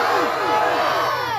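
A large crowd roars a loud, sustained collective shout in answer to a Nara-e-Takbeer chant, the dense mass of voices swelling and holding for the whole moment.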